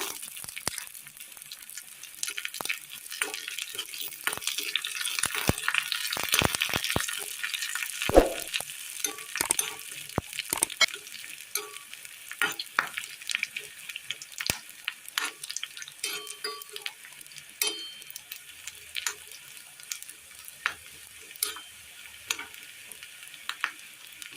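Steady sizzling of spices, including dried red chillies and curry leaves, frying in hot oil, with crackles and pops scattered throughout, close and fairly loud, no voices.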